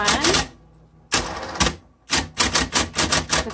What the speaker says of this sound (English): This typewriter works well.